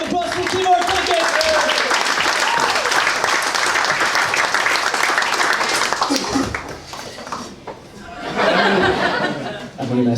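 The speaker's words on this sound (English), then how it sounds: "Round of applause for Timor, thank you." A comedy club audience bursts into loud applause mixed with laughter and chatter, the clapping dense and close for several seconds, dipping, then swelling again while voices carry over it.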